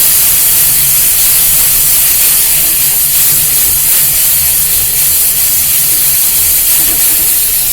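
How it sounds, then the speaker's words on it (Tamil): Masala powder sautés in oil for a karamani (black-eyed pea) masala, a loud, dense, continuous sizzle that holds steady throughout with no voices. "இது வதங்கும் போது எண்ணெய் பிரிஞ்சு வரணும், அப்போதான் டேஸ்ட் கொடுக்கும்"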